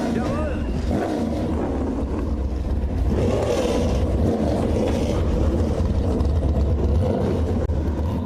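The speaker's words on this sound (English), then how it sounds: "Drivers, please start your engines." EuroNASCAR stock cars fire up and roar at the NASCAR GP Germany 2023 round, a dense, rumbling mass of engines with rising revs, heard under a faint public-address voice and crowd murmur.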